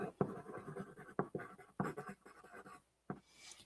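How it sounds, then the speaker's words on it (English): Handwriting on paper with a pen, in short scratchy strokes that come in several bursts separated by brief pauses, close and fairly quiet. "I'm going to write it down."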